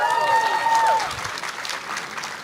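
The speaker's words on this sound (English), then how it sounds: "why was everybody cheering for him?" An audience applauds and cheers at a youth leaders' gathering with the president, a dense burst of clapping that tapers off over a couple of seconds, with a voice briefly heard near the start.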